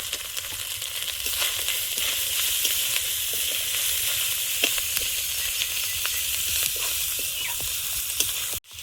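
Chopped onion frying in hot oil, a steady bright sizzle that runs unbroken and fairly close, with small scattered pops and crackles and no voices, cutting off abruptly at the end.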